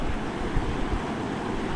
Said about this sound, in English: There's tides coming out, hence the flow of water.